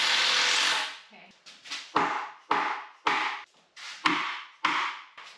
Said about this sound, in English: Sometimes you just gotta hit it with a hammer.